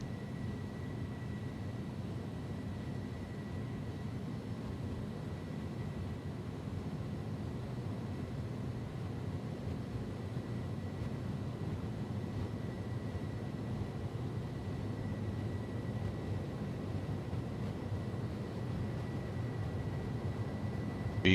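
Engines of an iniBuilds Airbus A310 at flex takeoff power in a flight simulator give a steady, loud, unbroken roar with a faint constant whine, holding without change for the full length.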